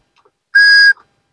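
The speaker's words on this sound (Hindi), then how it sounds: "इसके अंदर सीटी भी है, ये कैसे बजेगी बजा के देखते हैं" A small toy whistle tucked inside a chocolate treat gives one loud, pure, steady tone lasting under half a second, close up, with only faint handling noise around it.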